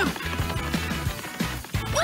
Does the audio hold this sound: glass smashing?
yes